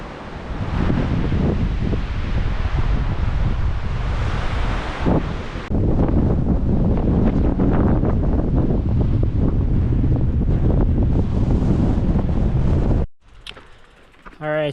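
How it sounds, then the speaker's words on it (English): Strong gusts roar across the microphone beside wind-whipped water at Lake Tahoe on a bikepacking trip, loud and constant, then cut off abruptly near the end. "Way too windy."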